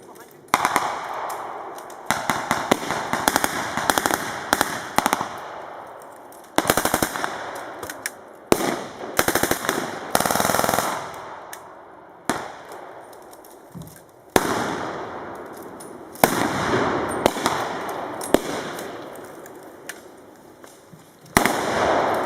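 A .303 calibre machine gun fires in several loud, rapid bursts separated by short pauses, each stream of sharp cracks ringing out close by.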